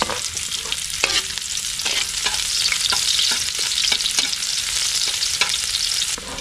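Garlic and onion frying in a pan, a dense continuous sizzle with occasional scraping stir sounds, close and fairly loud, with no talking.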